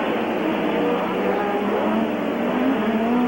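Formula 1 race cars, two McLarens among them, scream along at the Canadian Grand Prix, a steady high engine whine with rising pitch sweeps as they pull away, under a commentator's voice.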